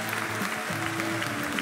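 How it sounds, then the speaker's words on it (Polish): An audience at a political rally for Jarosław Kaczyński breaks into steady applause, a dense continuous wash of clapping filling the hall with no distinct voices. "Wielkie brawa!"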